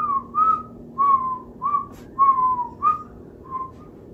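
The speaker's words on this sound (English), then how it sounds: "whistle your favorite song for 30 seconds" A person whistles a short tune during a family game night, about seven bright, separate notes in a steady rhythm, close and clear with no talk over them.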